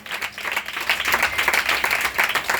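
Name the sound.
applause from the audience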